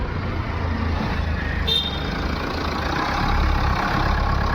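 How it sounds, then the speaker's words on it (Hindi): An MG Hector with a faulty fuel pump idles after starting, a steady low engine rumble heard up close and continuous throughout, with a faint brief tone in the middle. "सो गाइस इंजन स्टार्ट हो गया, आप लोग देख सकते हो।"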